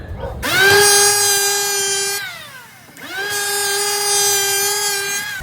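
A power planer cuts along the curved edge of a door in two long passes. A loud, steady, high motor whine carries through each cut, drops away briefly between them, then starts up again.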